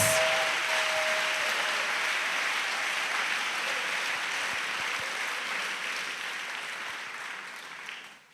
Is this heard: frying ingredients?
no